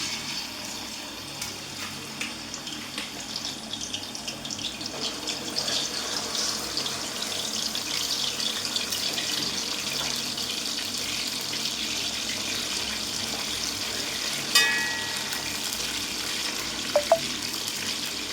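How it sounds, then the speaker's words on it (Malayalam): Fish fries in oil in an Indalium wok, giving a steady, dense hiss like running water that holds evenly throughout, with a couple of brief clinks near the end. "മീൻ ഈ എണ്ണയിലേക്ക് ഇട്ട് കൊടുക്കണം"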